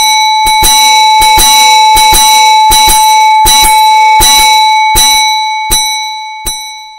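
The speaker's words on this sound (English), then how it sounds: "But soon it rang out loudly, and so did every bell in the house." A loud, rapid series of bell strikes in an uneven rhythm, slowing down as the final rings fade out.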